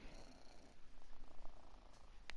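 A cat purring in the video game Killer Frequency, a soft, steady low rumble running continuously beneath faint background ambience, with a brief higher click near the end.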